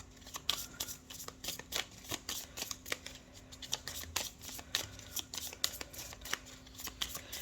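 A deck of tarot cards is shuffled close up, with rapid rhythmic riffling and flicking bursts repeating steadily and no talk.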